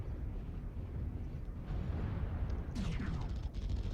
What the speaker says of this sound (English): then I start taking missiles in the back